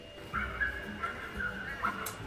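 Terrier barking beside a tube in a dog sport hunting live pet rats, a run of short yips and barks repeating through the clip, moderately close.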